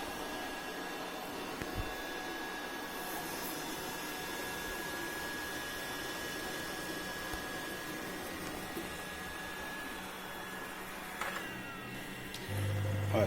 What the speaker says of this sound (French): ça c'est la phase de nettoyage des serpillières